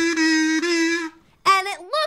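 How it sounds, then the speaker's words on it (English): Buzzy, nasal kazoo tones: one long sustained note, a brief gap, then a few bending, wavering notes played alone and close. "I know an instrument that starts with the letter K."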